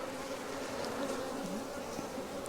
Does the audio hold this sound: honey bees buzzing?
yes